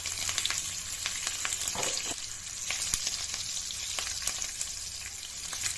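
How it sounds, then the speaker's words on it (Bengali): Cumin seeds, three green chillies and two bay leaves crackle in hot oil, a close, busy sizzle with sharp pops and spits and a few stirring scrapes, no voices. "জিরা ফোড়নে দিলাম জিরা তিনটে কাঁচা লঙ্কা আর দুটো তেজপাতা"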